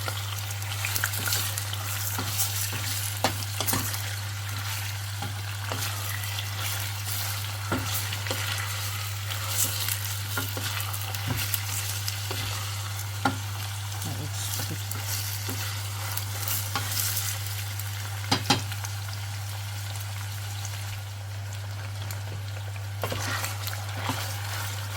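Quick sauce for escovitch fried chicken sizzling in a pan while being stirred, a continuous close hiss with repeated scraping clicks of the utensil, over a steady low electrical hum, no talking.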